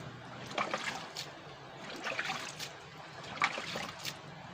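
Water trickles and splashes in soft, uneven bursts as it is poured into a worm compost bin, fairly close and quiet, with no voices.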